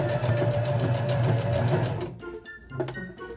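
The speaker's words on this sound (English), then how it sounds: "I'm going to sew down the edge, going back and forth." A sewing machine runs fast and steady, stitching back and forth along the edge of a fabric face mask, loud and close, then stops and leaves a few clicks and handling noises.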